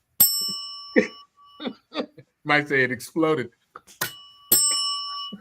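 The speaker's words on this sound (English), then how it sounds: "If I hit this bell any harder" A desk bell is struck a few times, sharp bright rings cutting in at the start, around four seconds and near the end, between bursts of talk and light laughter.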